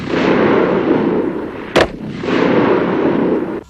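Cold War advanced combat rifle firing caseless ammunition in a salvo burst: one sharp, loud report cuts through a steady roaring background, standing alone for a split second before the wash resumes.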